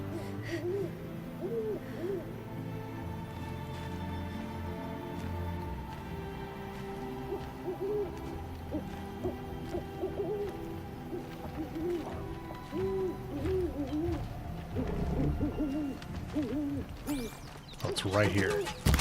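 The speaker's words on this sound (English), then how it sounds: "I hear you, Owl." An owl hoots repeatedly in a Horizon Zero Dawn game scene, its soft calls recurring over layered game music and ambient forest sounds, with a brief burst of louder effects near the end.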